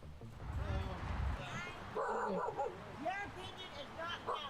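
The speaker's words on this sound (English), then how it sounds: "So she had a dog." A dog at a street encampment tent yips and whimpers in short, high bursts, fairly faint and mixed in with people talking nearby.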